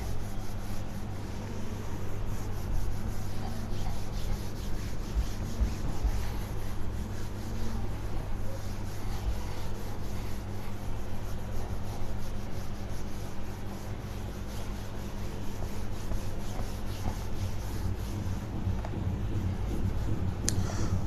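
Writing is being rubbed off a board with a continuous, even scrubbing that lasts about twenty seconds over a low steady hum, with no speech.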